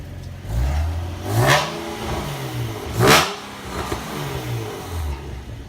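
A Nissan 370Z fitted with Motordyne headers drives along, its engine revving up and down through several gear pulls, rising and falling pitch with two stronger surges, heard from inside the car and without talk.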